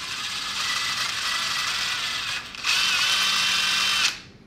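A rotary tool fitted with a 3/4 inch flat rotary stone grinds a plastic switch ball knob, giving a close, high, steady whir with a brief dip in the middle before it cuts off.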